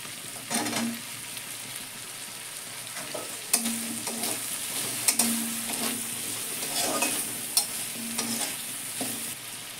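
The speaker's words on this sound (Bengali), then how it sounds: "এবার কাঁচা লঙ্কা, ক্যাপসিকামটা দিয়ে একটু নেড়ে নেব।" Green chilli and capsicum sizzle in a pan as they are stirred, with repeated scraping strokes and occasional sharp utensil knocks over a steady frying hiss, close and without voices.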